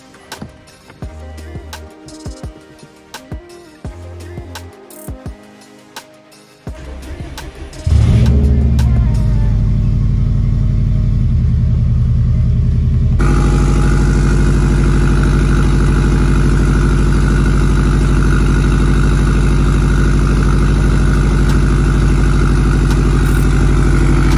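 A Subaru WRX STI with freshly changed spark plugs sits quietly at first, then cranks and fires up with a sudden jump in loudness, settling into a loud, steady, close idle.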